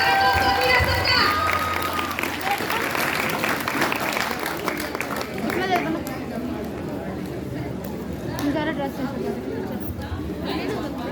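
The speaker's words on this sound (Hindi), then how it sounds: "जोरदार तालियों के साथ स्वागत करें दोस्तों नीरज सर का" An audience at a teacher-training college event clapping to welcome a speaker onto the stage, loud continuous applause mixed with crowd chatter, settling into a busy murmur.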